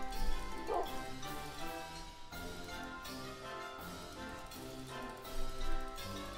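Dog barks in the Minecraft video game, a few short woofs over steady game music and background noise, fairly loud and close.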